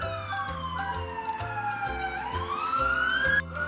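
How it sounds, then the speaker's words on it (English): An ambulance siren sweeps slowly through long rising and falling tones, loud and near, accompanied by a pulsing low electronic backing beat and no voices. "Ambulance."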